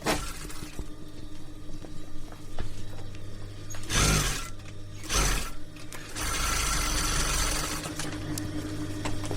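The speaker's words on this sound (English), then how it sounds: "So that is a sewing machine, but not just any sewing machine." A mechanical clattering and whirring runs steadily, with bursts of louder rattling, like a sewing machine stitching up close.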